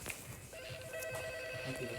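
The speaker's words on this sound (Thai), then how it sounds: "ต้องมารับโทรศัพท์" A telephone in a horror video game rings with a steady electronic tone over low background noise, starting partway through.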